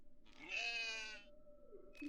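A goat in the video game Fear & Hunger lets out one clear, drawn-out bleat, close and alone, with a brief sound starting right after.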